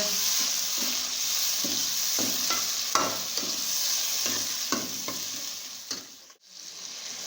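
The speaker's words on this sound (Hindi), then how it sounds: "अभी मैं इसके अंदर ये लहसुन कूटा हुआ ये ऐड कर दूंगा और इसके साथ मैं इसमें ऐड कर दूंगा ये टमाटर जो मैंने काट के रखे थे" Crushed garlic and chopped tomatoes frying with bitter gourd and onion for a salan, stirred with a spoon that knocks and scrapes the pan every second or so over a steady close sizzle, no one talking.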